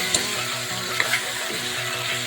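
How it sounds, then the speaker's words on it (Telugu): Chicken and onions frying in a pan while being stirred, a moderate continuous sizzle with occasional scraping clicks of the spoon and a faint rhythmic low hum underneath. "మంచిగా కలుపుకొని కొద్దిసేపు వేగాలి"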